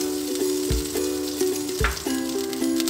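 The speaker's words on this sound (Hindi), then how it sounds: "अब हमने एक देची में जो मक्खन है वो थोड़ा सा डाल के इसको मेल्ट कर लेते हैं।" Butter melting in a cooking pot for makhni chicken, giving a steady close frying sizzle with a few faint stirring clinks and no talk.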